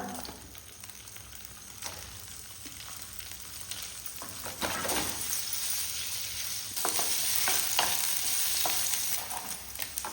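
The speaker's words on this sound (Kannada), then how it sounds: "ಎಣ್ಣೆ ಬಿಸಿ ಆದಮೇಲೆ ಪನ್ನೀರನ್ನು ಸ್ವಲ್ಪ ಫ್ರೈ ಮಾಡುವ" Cubes of paneer fry in a spoonful each of ghee and oil in a hot pan, a constant bright sizzle that swells louder midway, broken by occasional scrapes and clinks as the pieces are stirred.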